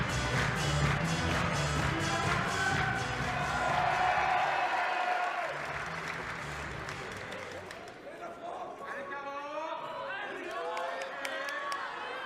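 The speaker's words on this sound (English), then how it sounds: "The crowd are loving it." A home crowd at the Olympic women's recurve archery gold medal match in Nîmes, France, claps and cheers loudly, then the roar fades to scattered applause and murmuring with voices over it.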